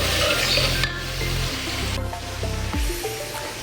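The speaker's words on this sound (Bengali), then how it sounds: "তো আমার পেঁয়াজগুলো ভাজা ভাজা হয়ে গেছে" Onions and meat frying together in a pan, a loud, close sizzle with bursts of spatter and crackle that shift in intensity, alone without talk.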